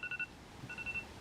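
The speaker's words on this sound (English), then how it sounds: "That's my alarm." A faint electronic phone alarm chirps in short tonal bursts, a quick triple beep followed by a longer tone, quiet against a low background hum.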